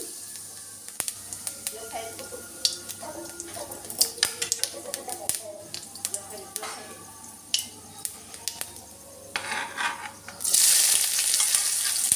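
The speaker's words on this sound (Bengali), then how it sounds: "এবার তেল গরম হলে কড়াই গোটা জিরে দিয়ে দেব, আর দেব সামান্য হিং" Whole cumin seeds and a pinch of asafoetida sizzle in hot oil in a wok. Scattered crackles and pops with spoon clicks build to a sudden loud, hissing burst of frying near the end.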